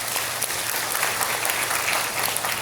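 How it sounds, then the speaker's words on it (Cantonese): Audience at a memorial performance for the Cantonese opera artist Lam Kam-tong applauding, dense, even clapping sustained throughout with no talk. "俾多啲掌聲俊哥。"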